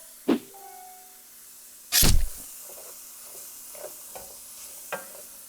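Onions sautéing in a pot for chicken noodle soup, with two sharp scraping stirs and a bright hissing sizzle, then quieter scattered taps and scrapes close by.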